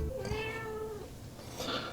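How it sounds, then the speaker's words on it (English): A house cat gives a drawn-out meow followed by a shorter, higher one, fairly faint over a quiet indoor background. "I think the cat is hungry as well"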